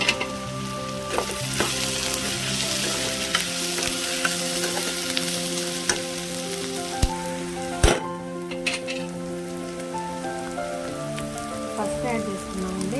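Tempering seeds and onions frying in hot oil, a dense crackling sizzle like rain on a surface, punctuated by sharp ladle taps and stirring clatter against the pan.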